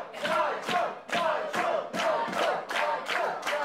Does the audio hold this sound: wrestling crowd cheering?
yes